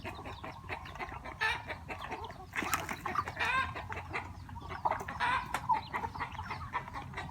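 Several free-range native chickens cluck steadily in a busy farmyard in a bamboo grove, with overlapping calls and a constant low background noise.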